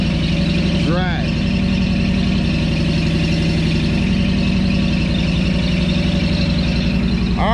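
A car nicknamed Dracula, restarted after months of sitting with a dead battery, idles loudly and close with a steady, even rumble, broken by a brief high squeal early on.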